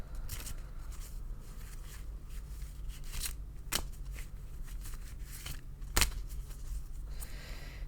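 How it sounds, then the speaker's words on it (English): A Wildwood Tarot card deck being shuffled by hand: soft, scratchy riffling with a few sharper card snaps over a steady low hum, no talking. "So I shuffle until Spirit asks me to stop"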